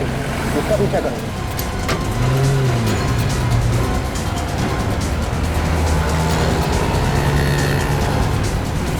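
Car driving fast in a crime drama chase scene, engine roar and passing whooshes under dramatic music, with a brief tire squeal early on.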